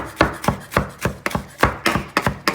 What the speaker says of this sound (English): rough chop it.